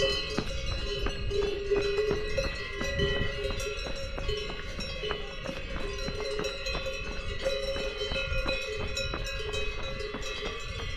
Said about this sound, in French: Petit concert de cloches, sympa.